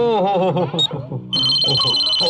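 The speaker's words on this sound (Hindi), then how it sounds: "फोन किधर बजा?" A telephone ringing during a Hindi comedy sketch, heard as a steady electronic ring that begins partway through and then continues. It sounds close and clear, and someone talks over it.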